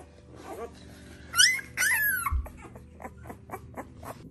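A pregnant puppy whimpers and yips with high, wavering cries in two short bursts, followed by a series of softer short whines and snuffling sounds, close by and fairly quiet.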